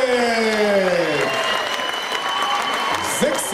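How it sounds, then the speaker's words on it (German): Applause from a boxing audience at a Super Welterweight bout in Riga, Latvia, steady crowd clapping throughout while an announcer's voice speaks over it. "Darum einen ganz herzlichen Applaus aus Riga in Lettland"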